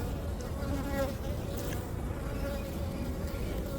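Honeybees in an open hive during an inspection give a dense, continuous buzzing drone, close and steady throughout with no voices.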